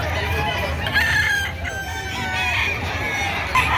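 Several roosters crow and cluck nearby at a chicken market in Padre Garcia, Batangas, overlapping calls rising over a low background rumble.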